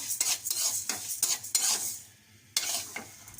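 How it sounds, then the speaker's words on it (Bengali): Food frying until lightly reddened in a home kitchen pan, with a spoon stirring in repeated scraping strokes over a steady sizzle, a short pause, then stirring again, close and fairly loud. "একটু হালকা লাল করে ভেজে নিলেই কিন্তু খুব সুন্দর একটা গ্রান বের হয়"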